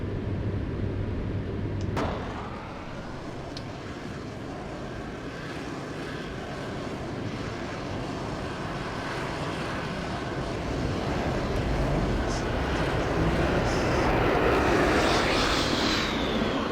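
An airplane engine in the FSX flight simulator drones steadily and loudly throughout, after a sharp click near the start, then swells slightly louder toward the end.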